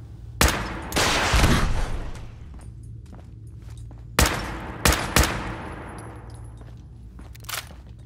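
A rocket launcher firing in Fallout 4: a handful of sharp, loud blasts spaced irregularly, one followed by a rushing roar, with faint footsteps and thuds between them.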